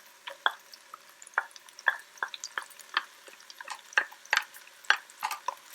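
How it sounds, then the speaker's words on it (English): Bell peppers and onions sauteing in oil give off a faint, low sizzle under irregular, sharp clicks and clatters from stirring in the pan. "Our oil is ready, and it's time to add our beautiful peppers and onions to the saute."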